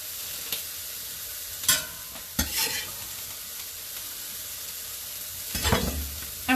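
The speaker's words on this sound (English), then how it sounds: "so I'm going to add my garlic in there." Garlic added to a pan for tofu shakshuka, a soft steady sizzle punctuated by a few scraping stirs of a wooden spoon, close and alone with no talking.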